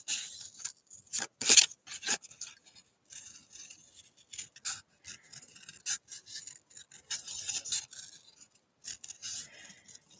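Scissors trimming a small paper sentiment for a handmade card, heard as a series of close, quiet snips and paper rustles in short irregular bursts, with no talking.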